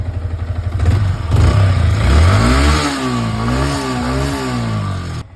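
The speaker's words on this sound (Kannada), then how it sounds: "ನೋಡಿ ಇಂಜಿನ್ ಸೌಂಡ್ ಕೇಳಿಸ್ಕೊಳ್ಳಿ" A Yamaha MT-15 V2 motorcycle with about 32,750 km over two years of ownership idles, then its engine is revved, the pitch rising and falling in a smooth wavering note, loud and close.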